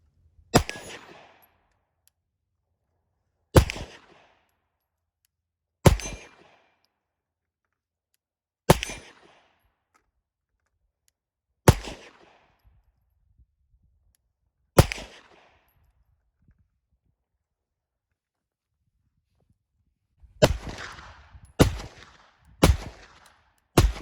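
A CZ 75 D PCR Compact pistol fires about ten sharp, loud shots outdoors. Six come singly, a few seconds apart, then a quick string of four, each followed by a short ringing decay.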